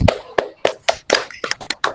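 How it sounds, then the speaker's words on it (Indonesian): A classroom of students applauding, with irregular overlapping hand claps and taps that come in uneven bursts. The clapping is fairly close and lively, with no talk over it. "Tepuk tangan untuk kita semua."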